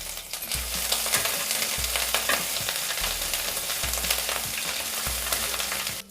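Whole cumin, two dried chillies and ginger paste fry in oil with a loud, steady sizzle, while a spoon stirs the pan in regular scraping strokes.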